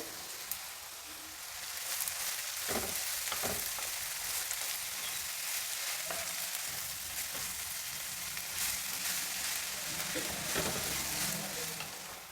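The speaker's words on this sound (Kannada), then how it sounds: "ಚೆನ್ನಾಗಿ ಹುರಿಬೇಕು ಒಗ್ಗರಣೆನಲ್ಲೇ ಸೊಪ್ಪು ಈರುಳ್ಳಿ ಎಲ್ಲ ಬೆಂದು ಮೆತ್ತಗಾಗಬೇಕು" Steady sizzling of fenugreek leaves and onions frying in a tempering pan, with occasional stirring scrapes, continuous and close.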